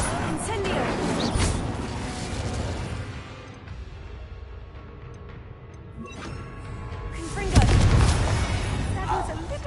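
Fiery Incendio spell blasts in the Hogwarts Legacy video game burst loudly twice, near the start and again near the end, with a rumbling roar in between and voices talking over the combat.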